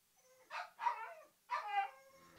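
Dogs bark and yip in three short, close bursts with brief gaps between them, excited and fairly loud against an otherwise quiet room.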